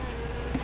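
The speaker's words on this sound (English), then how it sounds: "Wasp, you better be careful. They can sting a man to death." Wasps buzz in a steady, continuous drone, close and moderately loud, with no voices over it.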